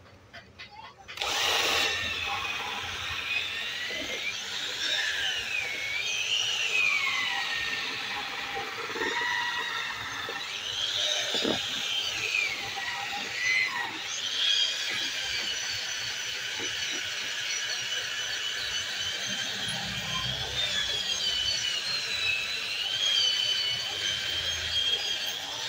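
A power drill spinning a brush attachment scrubs the inside of a motorbike engine head, a steady high whirring grind that runs close and continuous for most of the clip, with faint speech underneath.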